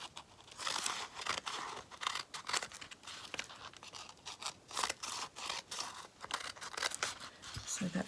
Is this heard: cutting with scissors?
yes